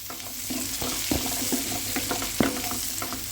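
Raw prawns fry in a pan with a steady, close sizzle, broken by scattered clinks and scrapes of stirring.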